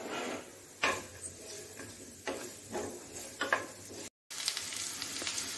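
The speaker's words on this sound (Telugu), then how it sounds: "ఇప్పుడు అందులోకి ఉల్లిపాయ వేసేయండి. ఉల్లిపాయ దోరగా వేగే వరకు కలుపుతూ ఉండాలి." Onions sizzle steadily in a pan for a tomato curry while a spatula stirs them, the scrapes and clacks against the metal rising above the frying in several bursts, with a brief dropout near the end.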